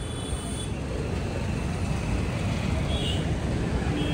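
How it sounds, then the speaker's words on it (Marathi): Road traffic stuck in a jam makes a steady broadband rumble of idling and creeping vehicles, dense and continuous throughout with no distinct horn or pass-by. "बेकार ट्रॅफिक आहे बेकार."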